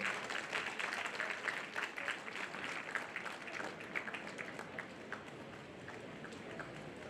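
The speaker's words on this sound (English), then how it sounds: "Guys, please offer a big round of applause." Steady applause from a large audience at a college graduation ceremony in Bangalore, a continuous crackle of many hands heard from a distance at moderate level, without talk over it.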